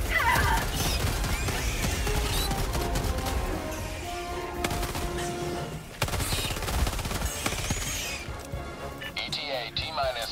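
Enemy gunfire in Helldivers 2 during a solo defence tower mission on Impossible difficulty, a steady clatter of shots and mechanical noise with voices talking over it.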